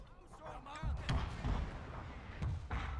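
Heavy booming blasts of Armstrong gun artillery fire go off several times in the video game Total War: Shogun 2 Fall of the Samurai, spaced irregularly, mixed with a voice talking over the action.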